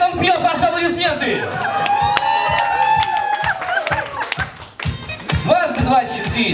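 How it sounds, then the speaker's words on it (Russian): Guests at a wedding reception clap over a game of quiz questions, sharp rhythmic hand claps and cheering mixed with loud music and people talking in a noisy banquet hall. "Это правильный ответ, он пьет, ваши аплодисменты."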